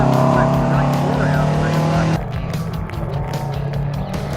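Racing trucks roar past at a Supertruck Nationals circuit race, a loud engine drone that drops sharply in pitch and level halfway through as the trucks pass, with a commentator's voice faintly underneath.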